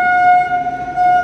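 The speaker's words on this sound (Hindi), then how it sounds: "ट्रेन आ रही है" A local passenger train running from Bhagalpur toward Banka sounds a loud, sustained horn close by, one steady blaring tone that swells slightly as the train approaches.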